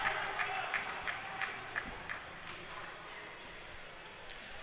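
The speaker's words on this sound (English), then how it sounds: "Cheering and clapping, I tell you." Fans at a Omaha Varsity vs Waterloo Warriors hockey game cheer and clap in a steady, moderately distant crowd roar, with scattered sharp claps and stick or puck knocks standing out over the arena hubbub.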